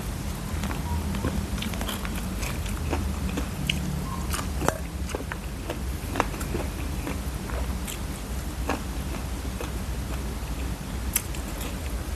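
Crisp bites and chewing of a raw sweet eggplant alongside spicy Lao papaya salad with fermented fish, with repeated close crunchy snaps over a steady low background rumble.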